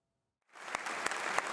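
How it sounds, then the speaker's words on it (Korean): Members of the US Congress break into applause after a moment of silence, a brief, full burst of clapping that carries through to the end. "의원들은 모두 일어나 박수와 환호로 환영했습니다"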